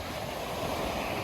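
Ocean surf rolls in at Carmel Beach, California, a broad continuous wash of breaking waves mixed with wind buffeting the microphone, steady and fairly close with no voices.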